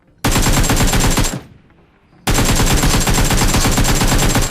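Loud, close automatic gunfire from a multiplayer shooter video game, played as a team deathmatch: a sustained rapid burst of about a second, a short pause, then a second long continuous burst, with no talking.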